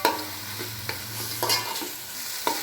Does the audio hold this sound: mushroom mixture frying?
yes